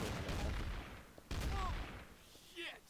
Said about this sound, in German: Ich werde von der Seite angeschossen.